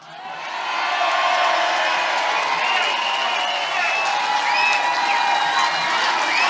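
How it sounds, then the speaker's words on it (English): A crowd at a Scottish independence rally bursts into cheering and applause that swells within a second and holds, dense and sustained, with scattered whoops and whistles on top. "Give a big cheer to my Uncle Shug."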